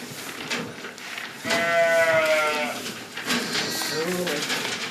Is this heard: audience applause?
no